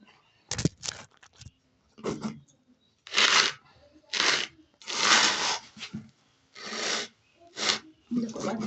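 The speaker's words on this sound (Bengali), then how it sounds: "দেখুন বন্ধুরা, আজকে মশলা বাটছি।" Whole cinnamon, dried chili, cumin and black pepper being ground by hand, heard as a series of separate rough grinding strokes, about nine bursts with short pauses between, close and moderately loud, with no talking.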